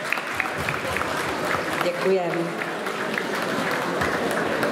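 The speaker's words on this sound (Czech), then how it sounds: "A pokud se vám to líbilo, tak můžete zatleskat." Dance class participants clap after a demonstration, a sustained moderate round of applause filling the room while someone briefly speaks partway through.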